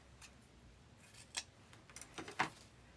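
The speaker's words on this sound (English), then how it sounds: "I am going to actually trim this one a little bit." Scissors trim a ribbon bow on a dog bone grapevine decoration: a few quiet, crisp snips spaced apart over near silence.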